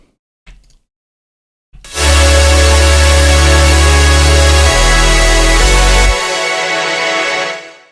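A thick, wide synth chord of layered sawtooth tones swells in after a brief click, sustaining loudly with a shifting bass note before fading out.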